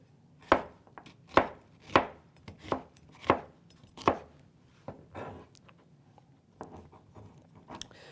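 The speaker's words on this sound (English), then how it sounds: "we're just going to do a little dicing here" Vegetables for tortilla soup diced with a kitchen knife on a cutting board: a run of seven or eight crisp, evenly spaced chops, then a softer, irregular stretch of lighter cuts, close and clear with no talking.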